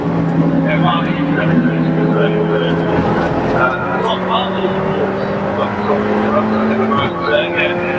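Race cars, a Golf TDI and a TT TFSI, lap the Silverstone GP circuit during a Britcar Trophy race, their engines droning steadily and fairly loud beneath continuous commentary.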